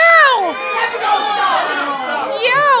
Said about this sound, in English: It seems like the crowd is in a ruckus about this.